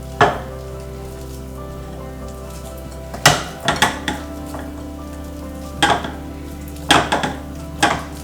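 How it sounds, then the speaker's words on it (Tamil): Ripe banana being mashed in a bowl for sweet wheat appam, with scattered clinks and scrapes of a utensil against the bowl over a steady low hum, no talking. "நல்லா ஸ்மாஷ் பண்ணிடுங்க"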